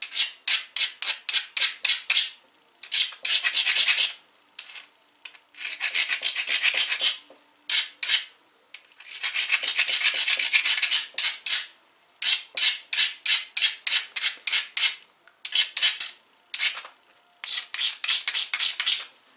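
A novaculite preform for flintknapping has its edge ground against an abrasive, giving repeated close, dry rasping strokes in quick rhythmic bursts with short pauses between runs, and no talking.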